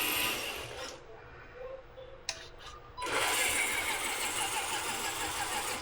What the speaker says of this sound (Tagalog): Maingay lang yung motor.